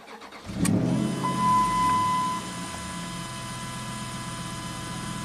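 A Ram pickup's Hemi V8, cold and running rough, cranks briefly and catches, then settles into a steady idle with a droning hum, close by.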